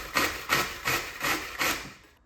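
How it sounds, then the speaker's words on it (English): Zucchini rubbed down a box grater's coarse side in five even rasping strokes, each a short scratchy burst about half a second apart, close and fairly quiet with no talk. "So let's grate them."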